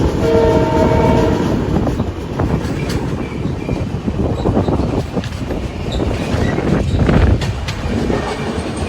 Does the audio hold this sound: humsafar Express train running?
yes